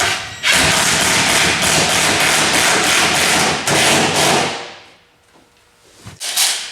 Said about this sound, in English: I'm gonna try using my impact driver